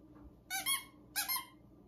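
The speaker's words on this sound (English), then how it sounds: "he loves squeaky toys" A puppy's squeaky dog toy gives two short, high squeaks about half a second apart, each a quick double pulse, clear and close in an otherwise quiet room.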